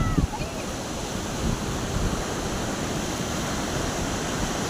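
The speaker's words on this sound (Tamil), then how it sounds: "கடல் சீற்றத்துடன் காணப்படுகிறது." Rough sea surf crashing onto a beach, a dense continuous roar of breaking waves mixed with wind buffeting the microphone, loud and steady throughout.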